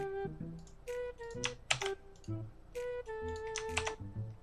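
Fingers type an IMPORTXML formula on a computer keyboard, a quiet run of crisp, uneven key clicks close by, sometimes in quick bursts and sometimes spaced apart.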